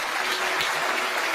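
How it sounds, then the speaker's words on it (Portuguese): A church congregation claps during a service, producing an unbroken, fairly loud roar of many hands at a steady level with no speech over it. "com uma salva de palmas ao Senhor."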